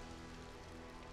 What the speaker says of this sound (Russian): пускай идет дождь